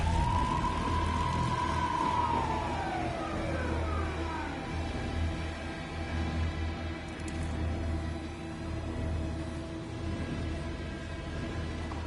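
Police car siren in the video game Alan Wake, a single wailing tone that holds and then sweeps downward early on, over a low steady rumble and hum that continues faintly throughout.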